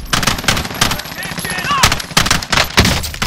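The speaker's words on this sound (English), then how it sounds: "Oh, there's a whole bunch of people shooting." Rapid bursts of automatic gunfire crackle loudly in a Warzone battle royale match, several overlapping volleys spread across a few seconds with faint voices underneath.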